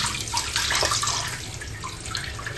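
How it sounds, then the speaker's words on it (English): Warm tap water runs steadily from a faucet into a water flosser reservoir, a close, continuous splashing hiss with no talk. "So I fill it with warm water, not hot and not cold."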